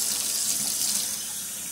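Tap water runs steadily into a hummingbird feeder bottle, a constant close hiss with no breaks and no voices.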